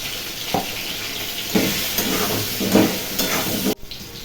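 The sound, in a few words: potatoes frying in a wok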